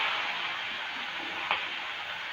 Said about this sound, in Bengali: এর মধ্যে আমি দিয়ে দেব পেঁয়াজ কুচি আর দুটো লঙ্কা।